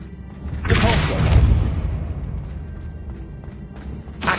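A Depulso spell is cast in Hogwarts Legacy, producing a booming, whooshing burst of force that swells and fades over a couple of seconds, followed by quieter game ambience.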